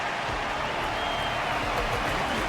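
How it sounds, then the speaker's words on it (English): Steady applause from a large audience at a fighting tournament match in Honkai Star Rail, a dense continuous wash of clapping that holds at an even level throughout. "Their constant applause is a salute to this resilient Balabagian fighter."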